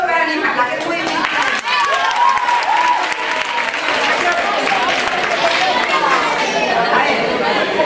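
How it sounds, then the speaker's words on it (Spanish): Sustained clapping from a school audience at a Book Day celebration, loud and steady, mixed with overlapping chatter and voices throughout. "Un aplauso para animarla, que es muy bien."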